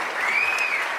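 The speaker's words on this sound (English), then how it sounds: "if you're applauding for me like that" Steady, dense applause from a crowd, filling the short moment evenly at a moderate level with no voices over it.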